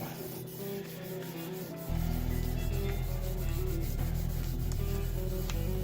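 Hand sanding of a guitar finish, a continuous rough scraping rub that grows louder and heavier partway through, steady back-and-forth strokes close up.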